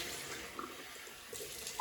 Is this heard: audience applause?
no